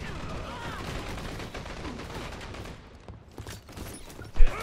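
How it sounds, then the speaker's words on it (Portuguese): Grenade and gunfire in the online shooter Dirty Bomb, a steady rumble of distant shots and battle noise ending in a sharp, close blast near the end. "Ó, joguei a granada."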